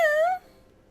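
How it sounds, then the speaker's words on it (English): A cat gives one drawn-out, rising and falling meow up close, fairly loud, then stops and leaves near silence for the rest of the moment. "now you can hear my cats"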